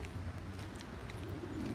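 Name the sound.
bird calling, pigeon-like cooing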